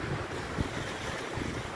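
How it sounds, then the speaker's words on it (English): Steady gusting wind roars across the microphone, a broad rushing noise that holds for the whole moment with a brief buffet partway through, at a country dacha in Khabarovsk, Russia, in March. "the wind is howling"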